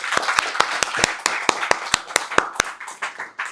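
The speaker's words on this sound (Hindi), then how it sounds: "ताली बजा सकते हैं?" A church audience claps along in a steady rhythm, about a dozen crisp, evenly spaced loud claps over a softer bed of scattered clapping that grows looser toward the end.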